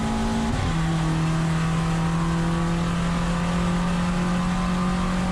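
VW Jetta GLI Super Touring race car accelerating hard on the track at Thunder Hill Raceway, its engine note climbing after a gear change into a steady, loud, sustained drone that stays close throughout.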